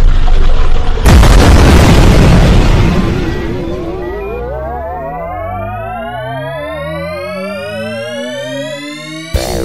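Spaceship weapons fire and a deep explosion booms loudly in a science-fiction audio drama, followed by a long ringing, warbling sci-fi tone with rising sweeps that slowly fades.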